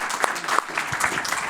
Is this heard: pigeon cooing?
no